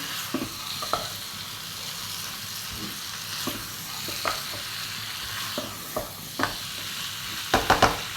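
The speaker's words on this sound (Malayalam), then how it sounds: "നന്നായി മിക്സ് ചെയ്യണം മസാലകളൊക്കെ എല്ലായിടത്തും ഒന്ന് പൊരിക്കണം" Soft, steady sizzling of chicken masala frying in a pan, broken by repeated scraping knocks of a spoon stirring, the strokes irregular and bunching up near the end.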